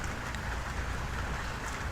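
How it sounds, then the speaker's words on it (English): Steady rain falling outside, a continuous soft hiss with no distinct drops, heard indoors without talk. "You hear the rain?"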